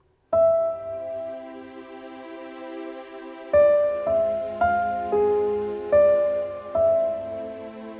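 A piano plays the background part of a composition example in place of strings: one held chord rings and fades, followed by a run of chord changes, each with a struck attack and gentle decay. No voices.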